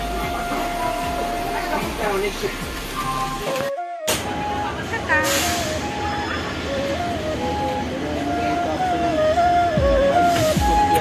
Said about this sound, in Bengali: এটা হলো আমাদের ট্রেনের কম্পার্টমেন্ট